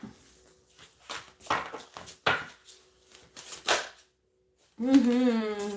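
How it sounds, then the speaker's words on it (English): Tarot cards being shuffled in a string of crisp, papery riffling bursts of varying loudness for about four seconds, then a brief pause before a voice starts talking. "Let's give it a nice good shuffle here."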